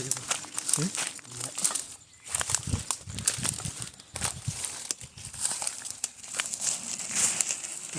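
Repeated crinkling and rustling of a plastic bag, close by, in bursts across the clip while people talk intermittently.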